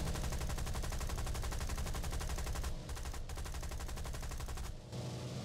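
Rapid machine-gun fire from a Bristol Blenheim night fighter in War Thunder, a dense continuous rattle of shots that runs loud and steady for several seconds, with two brief pauses before the burst resumes.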